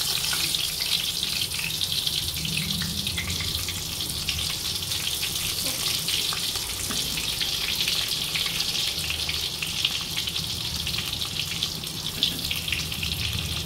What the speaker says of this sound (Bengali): এবার আমি পটলগুলো এক এক করে ভেজে নেব।